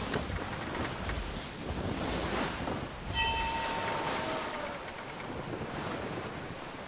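Atlantic Ocean waves in the Assassin's Creed III game, a steady broadband wash of surf and wind with a brief ringing tone partway through, continuous and fairly loud with no speech.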